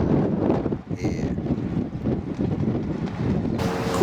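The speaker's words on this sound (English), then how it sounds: "The wind is hacking down here." Strong wind buffets the microphone beside a lake where anglers are carp fishing, a steady loud roar with rumbling gusts throughout and a brief higher tone partway through.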